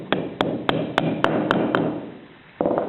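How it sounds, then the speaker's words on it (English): A mallet taps a glued wooden dowel into a tight hole, seven sharp, evenly spaced knocks in quick succession, close and crisp, then one softer final tap after a short pause. "It's a little tight, so I'm going to get a mallet and tap that in."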